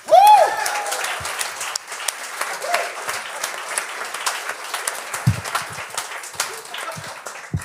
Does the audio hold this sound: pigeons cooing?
no